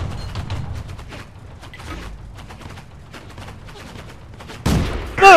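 Tank cannon shot in the World of Tanks video game, a sudden loud burst near the end following a stretch of faint mechanical clicks and rattles.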